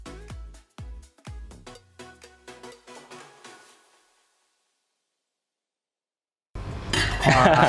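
Metal utensils clink and tap against a container while sugar is stirred for kombucha, a quick rhythmic series of bright knocks that fades into silence before louder rustling noise returns at the end.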